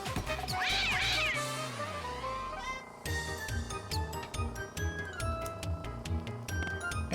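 A cartoon cat meows and yowls in Contraption Maker amid a chain of ticking, clinking and tumbling contraption sounds, with a steady rhythmic game soundtrack playing throughout and no talk.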